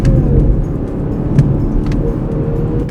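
Heard from inside the cabin, a BMW 630i GT with a six-cylinder petrol engine pulls away again, its low engine drone continuous and loud with slight swells and a few faint clicks.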